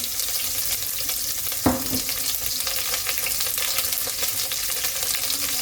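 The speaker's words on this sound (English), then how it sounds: "You can test it by dropping in a little piece of onion. If it goes like that, then you know it's correct." A small piece of onion dropped into hot oil gives a short splash, and a steady close sizzle continues throughout at moderate level.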